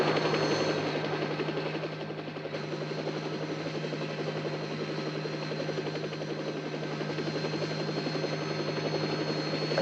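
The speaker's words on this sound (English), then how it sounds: "We're getting the first reports from the Davos helicopter." A helicopter drones overhead in an alpine rescue search for skiers, a steady rotor buzz and hum holding at moderate distance with no voices.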